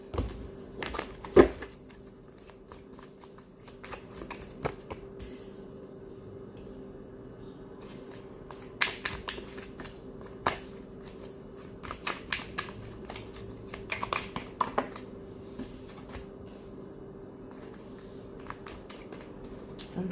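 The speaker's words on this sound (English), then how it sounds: "Bear with me as I shuffle these cards." Soft, irregular riffling and slapping of tarot cards being shuffled close by, in short bursts separated by quiet pauses.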